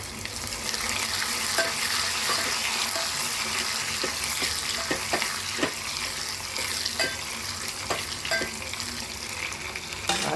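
Curry leaves crackle and sizzle in hot oil for a tempering for drumstick leaf dal, a continuous frying hiss dotted with sharp pops and occasional stirring clinks.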